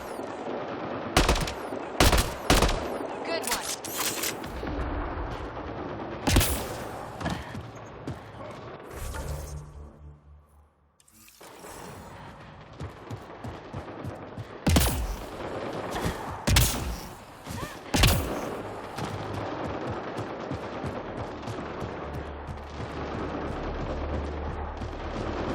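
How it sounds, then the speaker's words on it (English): Heavy gunfire rattles through a Mass Effect Andromeda battle, with repeated loud automatic bursts and sharp blasts. A brief near-silent lull comes partway through before the shooting resumes just as densely. "What on earth is all this shooting going on for?"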